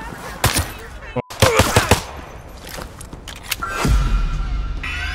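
Video-game gunfire breaks out in sharp bursts of rapid shots, with a few single loud cracks between them. A short silent gap falls in the middle, and a low rumble follows near the end.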